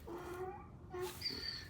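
A gray cat meows twice at close range, two short tonal calls with a brief pause between them and a higher, drawn-out cry at the end, heard alone against a quiet indoor background.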